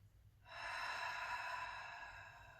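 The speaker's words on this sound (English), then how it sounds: "Making noise with the breath." One long, soft breath is pushed out through the mouth during a restorative deep stretch, a steady airy exhale lasting about two seconds, close and quiet with no talking.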